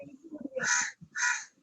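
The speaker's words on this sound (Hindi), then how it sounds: "कौवा बैठा है, आवाज आ रहा है" Two loud, harsh crow caws close by during a class lecture, separated by a short pause, with faint murmuring voices underneath.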